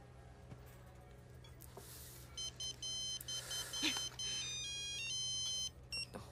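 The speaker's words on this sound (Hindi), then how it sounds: "तुम्हारी माँ का फोन है।" Mobile phone ringtone for an incoming call, a repeating electronic beeping melody in short bursts over a quiet dramatic scene, with faint voices in the background.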